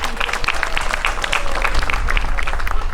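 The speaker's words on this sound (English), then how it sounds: "Can we please give them a round of applause?" Audience claps for board members at an intermediate school spring pops concert, a moderately close round of applause with distinct individual claps, some louder hand strikes, and faint crowd murmur beneath.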